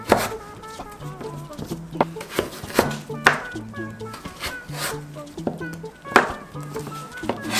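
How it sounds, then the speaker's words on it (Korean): A knife chops pickled yellow radish (danmuji) on a board in a series of sharp, fairly close taps at an uneven rhythm, while people talk over the cutting. "얇게 또 한 번 더 잘라주면 되는 거죠"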